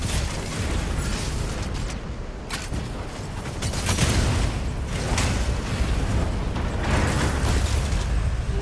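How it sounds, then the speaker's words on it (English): Beam auto cannons firing in the Mecha BREAK video game, a dense, continuous barrage of rapid blasts and booms with pulsing surges, loud and sustained throughout with no talk. "Beam auto cannons."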